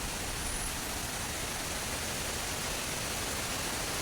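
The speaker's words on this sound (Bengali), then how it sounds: "এই যে কত জোরে বৃষ্টি" Heavy monsoon rain pours down outside a balcony during a thunderstorm with strong wind, a dense, unbroken roar of water that stays constant throughout.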